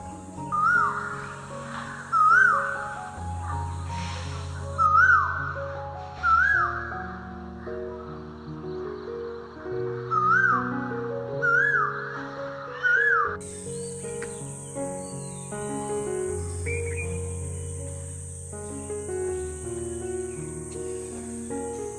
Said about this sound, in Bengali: এক টানা ঝিঁঝি পোকার ঝিঁঝি, মাঝে মাঝে ভেসে আসছে বিভিন্ন রকম পাখির ডাক,